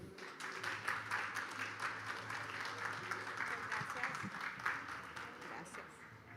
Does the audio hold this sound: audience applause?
yes